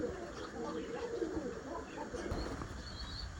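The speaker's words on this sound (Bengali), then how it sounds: "আমার কক্কা পায়রার ডাক দেখেন মার্শাল্লাহ মন জুড়ে যাওয়ার মতো ডাক কবুতরের এই ডাকটাই আমার সব থেকে পছন্দ" A pigeon at a village home in hot weather gives soft, low cooing that repeats faintly over quiet background noise.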